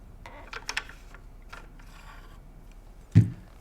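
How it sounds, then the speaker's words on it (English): Metallic clicks and slides as the bolt is drawn out of a Benelli Lupo bolt-action rifle, several faint mechanical taps in quiet surroundings, ending in one sharper clack. "I'm going to go ahead and take the bolt out."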